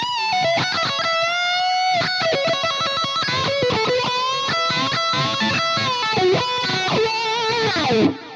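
Distorted electric guitar played through a switch-engaged wah on a Fractal FM3 modeler with 100 ms damping, sustained chords and notes sweeping in tone, loud and continuous without pause.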